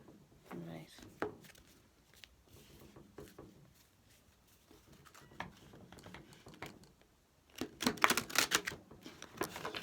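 Quick papery flicks and riffles of shuffled tarot cards come in short bursts, building to a denser crackling flurry near the end, with a soft voice talking between them.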